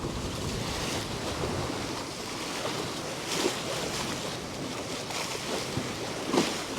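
A sailboat crossing the open Kattegat in about ten knots of breeze on nearly flat water, with steady broadband wind and water rush and a couple of faint knocks, no voices.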